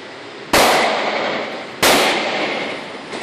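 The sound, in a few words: Benelli M4 Super 90 shotgun shooting slugs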